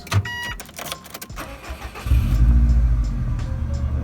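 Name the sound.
Subaru Impreza WRX engine starting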